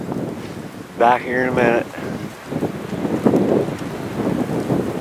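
Snowstorm wind gusts and roars steadily outdoors, a broad rushing noise buffeting the microphone while someone speaks briefly over it.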